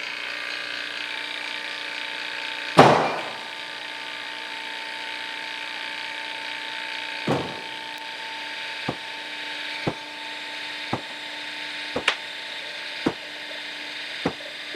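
A hydraulic press cylinder forces the big drive gear off a large restored cane mill, giving a sharp loud crack followed by a series of fainter metallic pops and ticks at irregular intervals over a steady hum.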